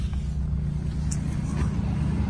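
A used car with new tires idles quietly, giving a low, steady engine hum throughout with a couple of faint higher ticks over it, and no talking.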